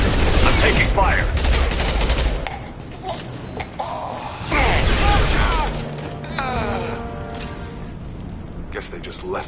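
Gunfire from Blue Suns and Vorcha mercenaries in the shooter game Mass Effect 2, with loud bursts of rapid automatic shots and cracks in two heavy waves, followed by quieter mechanical and sci-fi effects, game dialogue and music.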